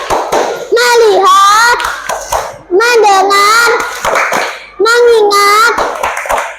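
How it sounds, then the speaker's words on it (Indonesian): A classroom of children chants a three-part focus call in unison, with rhythmic hand claps woven into the chanting. The chant repeats three times in even, loud bursts. "Tepuk fokus."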